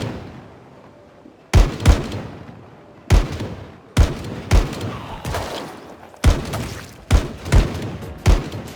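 Bandits fire rifles in Project Zomboid, a loud, close series of sharp cracks arriving irregularly, some in quick pairs, each trailing a short rumbling echo, with no voices.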